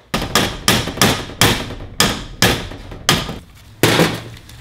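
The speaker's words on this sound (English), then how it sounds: "when installing a bearing, you want to hammer on the outer surface" Metal hammer blows ring out one after another, about nine sharp strikes in a loose steady rhythm, loud and close, each with a brief ringing decay, hammering on a bearing's outer surface while building a 200cc racing shifter kart chassis.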